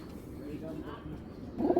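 Prized Giribaz tournament pigeons coo in a low, continuous warble, swelling louder and nearer toward the end.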